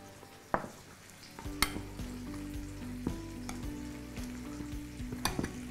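Chicken wraps fry in plenty of oil in a home kitchen, giving a quiet, steady sizzle and crackle, broken by a few sharp clinks and scrapes of a utensil against the pan. No voices are heard.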